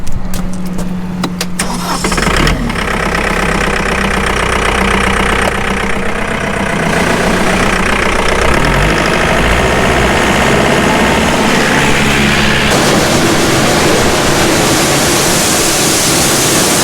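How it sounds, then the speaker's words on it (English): A tractor engine runs at high revs to drive a grain auger, a loud, steady mechanical roar with a grinding, rattling undertone that builds after a brief lower idle at the start and then holds at full speed. "we gotta really wind up the auger tractor and get the bushels cranking"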